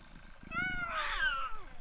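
A single drawn-out meow from the game I Am a Cat, high and rising then falling, sounds close and clear over a faint steady electronic hum.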